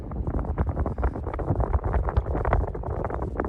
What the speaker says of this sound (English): Still too windy.